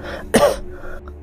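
A single sharp cough in a Tagalog horror audio drama set aboard a ship, close and loud, with a brief throaty tail and quiet ambience around it.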